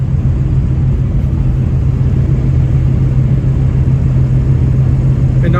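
A car driving down the road, heard from inside as a steady, loud, low engine and road rumble with a constant hum that holds unchanged throughout.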